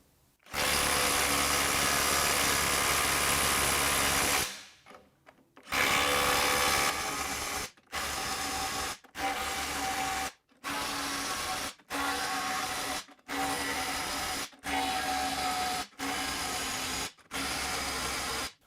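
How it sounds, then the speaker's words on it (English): Skil PWRCore 12V IW5744 cordless impact wrench on its high setting tightening fasteners: one long loud hammering burst, then about nine shorter rattling bursts of roughly a second each, separated by brief pauses, with no talking. "Tighten each one of these for 5 seconds each."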